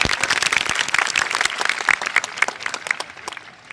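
An audience at a government school teachers' protest in Punjab applauds, a dense burst of many hands clapping at once that stays lively, then gradually thins out toward the end.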